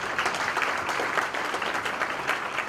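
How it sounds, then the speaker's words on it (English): An audience at a community event applauds volunteers with steady, moderately distant clapping that holds evenly for a few seconds without speech. "Please give them a round of applause."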